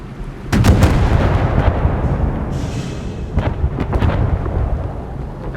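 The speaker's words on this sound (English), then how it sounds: "Ready to open fire on the enemy" Heavy naval gunfire in the warship battle game Force of Warships: repeated deep, booming cannon blasts over a continuous low rumble, with several close sharp reports near the start and more shots later.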